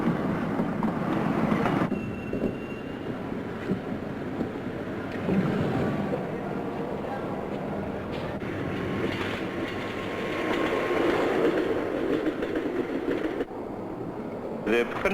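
A passenger train runs steadily along the rails, a continuous rumbling roll with faint clickety-clack, heard from on board under a voice talking throughout.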